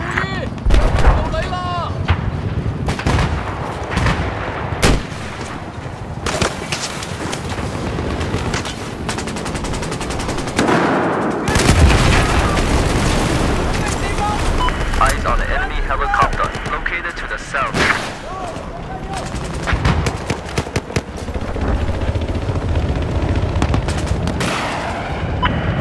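Gunfire from a Battlefield 4 battle, with rapid machine gun bursts and heavy booms layered over dense combat noise throughout, loud and continuous, with voices talking at times.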